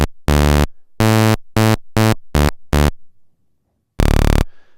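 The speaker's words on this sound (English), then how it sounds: "And you can kind of hear why it's called the buzzer." A maxYMiser buzzer waveform set to a repeating sawtooth wave plays as a loud, harsh electronic buzz in a series of short bursts of varying length, then one longer tone after a pause.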